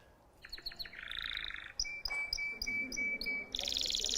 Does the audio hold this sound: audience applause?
no